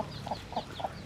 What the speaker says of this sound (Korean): 아니 이거 보세요. 닭이 그냥